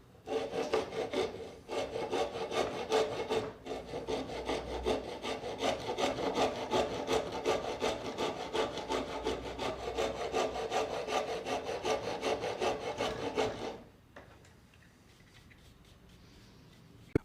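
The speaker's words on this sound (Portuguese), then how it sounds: "O lado redondo da grosa na madeira." The rounded half-round side of a wood rasp files across a piece of wood in fast, steady back-and-forth strokes, close and dry, continuing for most of the stretch before stopping abruptly into near silence.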